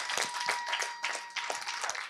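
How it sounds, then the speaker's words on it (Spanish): A church congregation claps briefly, faint scattered hand claps in uneven bursts across a couple of seconds, with no one talking. "Un aplauso, un aplauso"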